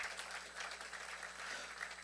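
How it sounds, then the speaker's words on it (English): A crowd at a New Orleans BioInnovation Center pitch competition gives a steady round of applause for the finalist judges, with the clapping fairly distant and soft. "Round of applause for Trivia and all of our finalist judges."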